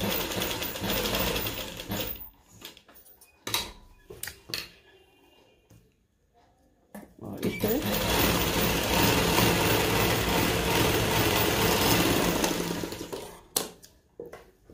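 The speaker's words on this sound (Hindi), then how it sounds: "और इस साइड को भी सिल देंगे।" A sewing machine stitching fabric for plazzo pants runs in bursts: a short whir, scattered clicks and pauses, then a long steady mechanical buzz, close up, ending with brief handling taps.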